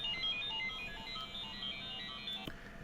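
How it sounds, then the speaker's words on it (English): A mobile phone ringtone plays a repeating electronic melody for a few seconds, fairly faint, then cuts off abruptly. "My phone went off."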